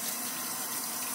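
Hot water runs steadily from a tap at a sink during fish gutting, a continuous even rush of flowing water with no voices.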